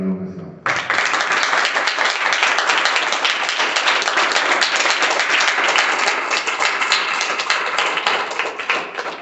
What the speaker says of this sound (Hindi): मतलब जोरदार तालियों के साथ।